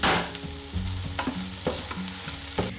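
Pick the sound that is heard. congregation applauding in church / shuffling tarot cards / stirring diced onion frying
stirring diced onion frying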